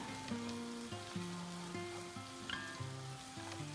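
Raw prawns frying with ginger garlic paste for a mango curry, a continuous close sizzle under steady background music, with no talk.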